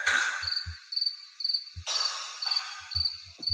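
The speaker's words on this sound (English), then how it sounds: "I should get my crickets ready." A crickets-chirping sound effect plays during a live online talk show: rapid, bright chirps in short repeated bursts, fairly clear and close, with a few soft low thumps between them and no talking.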